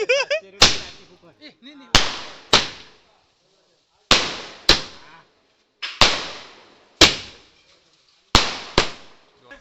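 Firecrackers burst one after another during a Tulsi wedding celebration, about ten sharp loud bangs with ringing decays at uneven intervals, and a voice is heard briefly at the start.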